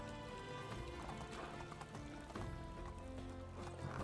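A horse galloping in the video game Medieval Dynasty, with quick, steady hoof clip-clops over a busy bed of background game music throughout.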